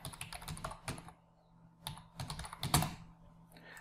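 Keystrokes on a computer keyboard as a name and details are typed into an online ration card application form, coming in close, irregular bursts of clicks with short pauses between them.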